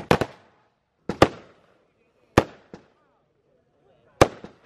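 Fireworks go off outside at night in South Wales: five or six separate loud bangs spaced about a second apart, each with a short crackling tail, and near silence between them.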